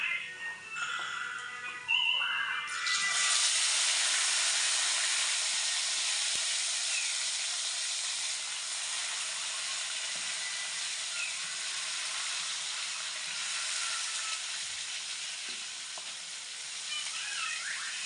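Chicken pieces dropped into hot oil seasoned with panch phoron for chicken biryani set off a loud, steady sizzle that swells within a few seconds and hisses on continuously, close and unbroken.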